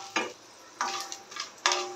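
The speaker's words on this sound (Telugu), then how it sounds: "ఒక 5 సెకండ్స్ ఈ ఫ్రై చేసుకున్నాక స్టవ్ ఆఫ్ చేసుకోవాలి" Tempering spices fry briefly in a pan for lemon rice, with quiet sizzling bursts and a few short scraping stirs close by, with no talk.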